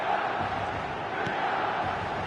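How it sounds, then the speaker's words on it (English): A packed football stadium crowd on match day sends up a dense, continuous roar of chanting and shouting that stays loud and steady from start to finish. "This crowd doesn't do ordinary, and we should be in for something very special."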